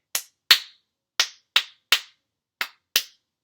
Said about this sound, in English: So let's clap one more time.